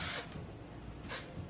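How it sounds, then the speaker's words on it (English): Hair texture spray fires in two short, close hissing bursts, one at the start and another about a second later, with quiet between them. "we spray"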